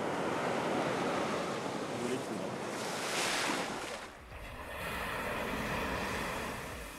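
Ocean waves wash onto the beach at Bundaberg in a steady, loud roar of surf, swelling and easing over several seconds, with some wind buffeting the microphone.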